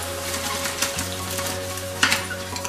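Baby broccoli dunked into liquid nitrogen, heard as a continuous close boiling sizzle and bubbling hiss with a few louder crackling bursts over a steady low hum.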